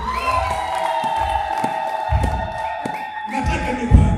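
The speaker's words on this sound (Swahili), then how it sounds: "Pigia makofi Bwana Yesu." Church congregation at a lively gospel service cheering and shouting, with sustained crowd noise and bursts of whoops under a steady tone, building louder toward the end.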